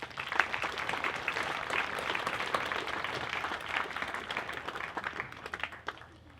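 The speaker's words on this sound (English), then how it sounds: "How about a round of applause for our wonderful staff?" A high school graduation crowd at Wahkiakum High School applauds its staff, producing a sustained wash of many hands clapping at moderate distance that holds steady before tapering near the end.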